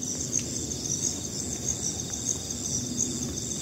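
Steady, high-pitched cricket chirping over rice paddies in Brumbung village fills the scene, a dense continuous trill with a soft low rumble of open outdoor ambience beneath.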